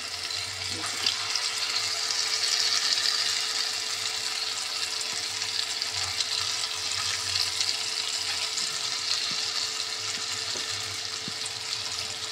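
Water runs steadily from a kitchen tap into a sink, a constant hissing stream with faint sizzling from a nearby wok, continuous and fairly close, with no speech.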